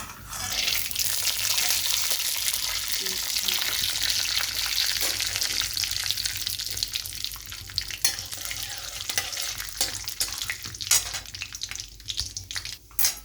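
Peanuts fry in hot oil in a pan for kanda pohe, giving a dense, continuous sizzle up close. Sharper clicks of stirring and scraping become more frequent near the end.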